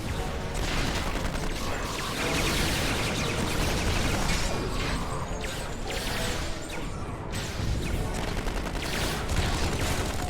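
Rapid weapons fire in a Star Trek Online battle, a dense, loud barrage of overlapping clattering shots and mechanical bursts that runs continuously without pause.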